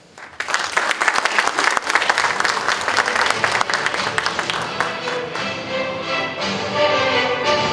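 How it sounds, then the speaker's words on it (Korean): A crowd at a Daegu party members' convention claps to welcome the preparatory committee chair, loud dense applause that thins out and fades toward the end. "천진수 준비위원장을 박수로 맞이하겠습니다."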